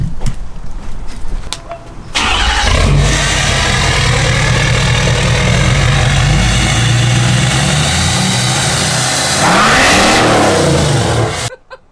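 Supercross racer Cole Seely's pickup truck engine cranks and catches, then settles into a loud, rough, close idle before a brief rev rises and falls near the end.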